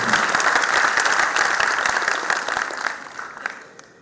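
An audience at a Delhi Technological University poetry tribute to martyrs claps steadily in a dense burst of applause that thins out and fades over a few seconds.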